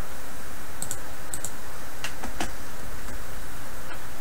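A Windows 10 computer mouse gives a quick series of sharp clicks, some in close pairs, then a few single taps further apart, near and crisp with no talk.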